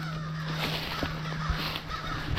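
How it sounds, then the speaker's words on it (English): Crows cawing among large old pine trees in Florida woods, several short caws at moderate distance over a steady background hum. "The crows are leading me in."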